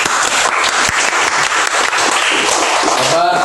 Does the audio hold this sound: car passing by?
no